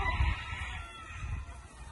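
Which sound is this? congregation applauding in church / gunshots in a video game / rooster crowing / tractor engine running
rooster crowing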